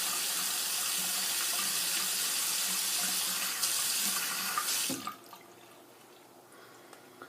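Water runs steadily from a sink tap during a wet shave comparing a Merkur Futur and a Futur clone razor, a loud continuous hiss for about five seconds before it is turned off, leaving faint room noise.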